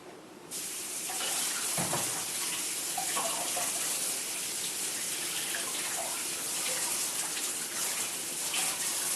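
Tap water runs in a steady, loud gush as a yanagiba knife and whetstones are rinsed between grits, with faint knocks and splashes of hands and steel shifting under the stream.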